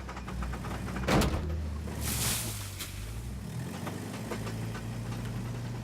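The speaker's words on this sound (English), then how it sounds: "That's my gearbox." An old car's gearbox grinds and knocks under a steady engine rumble, with a sharp clunk near the start and a brief whooshing burst soon after, all fairly loud and close.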